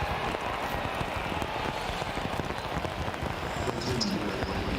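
Steady pouring rain at an outdoor college football game between West Virginia and Oklahoma State, a dense continuous hiss with faint stadium crowd noise beneath and no talk over it.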